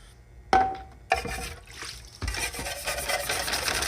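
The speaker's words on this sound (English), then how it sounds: "I'm just gonna scrub this stuff good." A surplus magazine scrubbed wet with soft and brass-bristle brushes after soaking, giving rough rasping strokes that start and stop, then settle into continuous scrubbing, close up with no talking.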